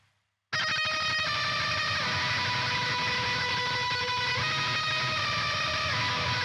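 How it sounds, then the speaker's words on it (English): Shimmering post-rock electric guitar washed in delay placed before the amp, a dense, sustained wall of echoing notes playing steadily and loud without pause. "So this is achieved by putting a delay in front of the amp."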